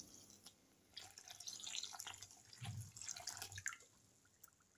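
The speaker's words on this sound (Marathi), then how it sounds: "सुरुवातीला रव्यामध्ये आपण पाणी टाकून घेऊ." Water is poured into rice semolina in a bowl, producing faint splashing and dripping sounds in uneven bursts, quiet and close, with no talking.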